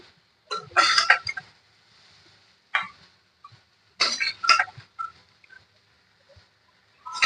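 Fried okra lifted out of a pan with a metal utensil on a low gas flame, giving a few short bursts of clinking and scraping separated by quiet pauses.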